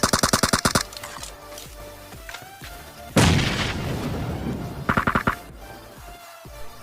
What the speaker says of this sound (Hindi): तब मैं स्मोक में एक ग्रेनेड फेंक दिया।